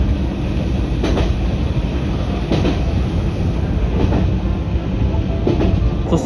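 A train rumbles steadily along the rails of Japan's old Nagasaki Line, with a regular clickety-clack of wheels over joints roughly every second and a half, loud and close.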